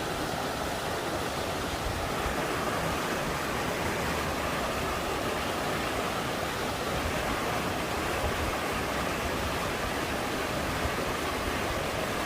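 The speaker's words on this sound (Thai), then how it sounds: "น้ำตกอยู่ถ้ำจังเนาะถ้ำจังถ้ำจังน้ำตกเนาะ" Steady, dense roar of a waterfall at Tham Chang cave in Vang Vieng, Laos, a continuous broadband rush of falling water that holds evenly loud and close throughout, with no voices.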